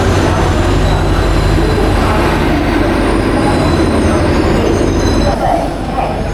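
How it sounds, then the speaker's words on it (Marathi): A train pulls out of a busy Mumbai station platform, its loud rumble and wheel clatter filling the scene with faint squeal overtones, steady and close throughout. "ट्रेन आलेली आमची. सोडून जाणार आहे आता."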